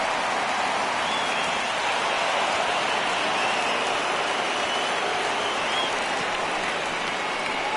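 Rain pours down on a ballpark in the MLB 19 baseball video game, a steady, dense hiss that stays even throughout with no voices over it.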